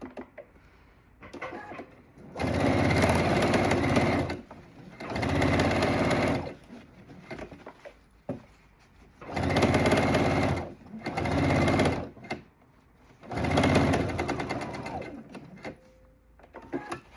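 A sewing machine stitches a zippered fabric toiletry bag in four steady whirring runs of one to two seconds each, separated by quiet pauses, close and clear.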